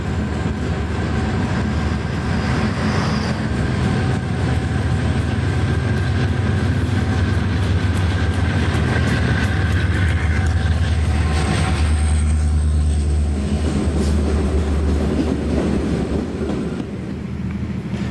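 Southbound Monongahela Railway freight train passing near the Pennsylvania State Route 188 overpass, a loud steady rumble of rolling cars with rail clatter and faint wheel squeal, holding strong throughout and easing slightly near the end.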